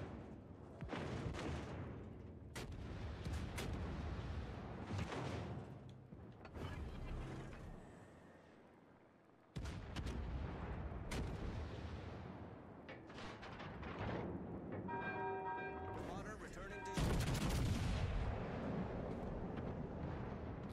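Battleship main-battery gunfire in World of Warships Legends, with the American battleship Montana firing: repeated heavy booming salvos with rumbling decay over continuous mechanical game noise, a louder burst near the end.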